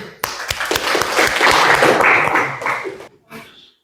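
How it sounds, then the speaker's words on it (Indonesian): Applause from a classroom group during a teacher-training session in Islamic religious education, a dense burst of clapping that swells for about three seconds, then trails off into a few scattered claps. "Oke, aplaus dulu."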